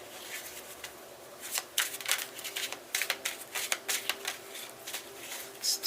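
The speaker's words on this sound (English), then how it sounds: "we're going to do 3 shuffles" Tarot cards are shuffled by hand up close, with quick riffling bursts and soft flicks in several short rounds over a quiet background and no talking.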